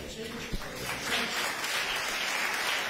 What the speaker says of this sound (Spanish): Aplausos para Dani Sánchez